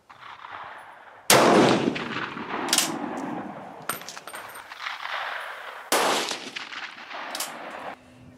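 A Swiss Model 1940 K31 bolt-action rifle fires at an outdoor range, two sharp loud reports several seconds apart, each ringing out with a rolling echo, plus a few clanks of the action between them and no speech.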